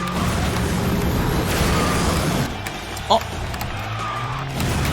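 Kart racing video game: an engine drones steadily and a tire skid squeals through the middle, a short thud marking a bump, with a voice talking over it.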